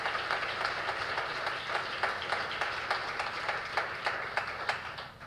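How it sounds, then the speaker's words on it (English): Audience applause for Mayor Hancock at a conference, a steady wash of many hands clapping with sharper individual claps standing out, loud and continuous throughout. "Let's give Mayor Hancock another round of applause."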